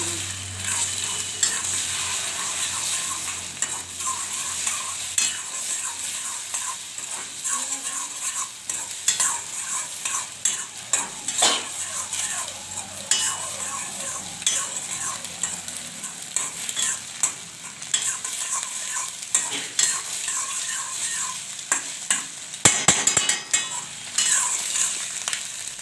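Egg fry with turmeric is stirred in a frying pan, a steady sizzle under repeated scraping and clinking of a spoon against the pan, close and continuous, with no talking.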